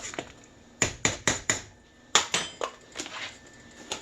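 Spoon knocking against a pot while soup ingredients with chives are stirred, a series of sharp metallic clinks and scrapes in uneven clusters, close and fairly quiet.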